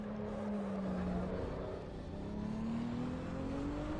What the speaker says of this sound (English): the recordings of the engines sound good